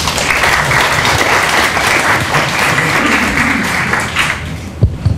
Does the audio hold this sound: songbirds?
no